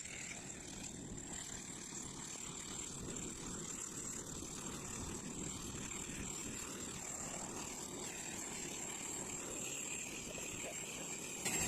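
A Trigana Air propeller airplane at Moa island airport, a steady droning engine hum with a constant high whine, continuous and fairly distant with no clear change, faint background voices.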